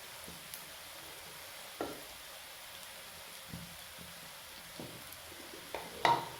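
Egg fried rice being stirred in a hot pan gives a faint, steady sizzle broken by a few soft scrapes and clinks of the spoon, ending in a sharper knock.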